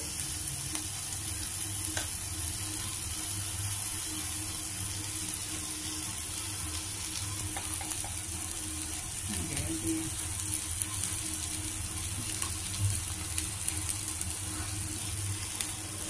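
Bitter gourd pieces fry in oil in a pan with a steady, close sizzle throughout, broken briefly by a stirring scrape partway through.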